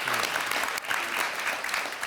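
A crowd applauding steadily, dense clapping that stays loud and continuous throughout.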